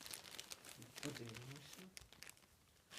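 Soft, close plastic crinkling and rustling in quick irregular bursts as a plain plastic bag holding a Jacques Lemans 1-1654A chronograph watch is opened, with a brief voice murmuring partway through.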